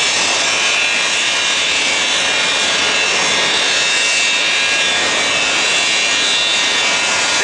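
A KLM jet airliner roars on departure from Atlanta Hartsfield airport, a loud, continuous broadband engine rush that holds steady throughout with no talking.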